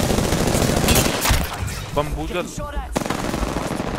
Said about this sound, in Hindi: फायरिंग शुरू हो गई।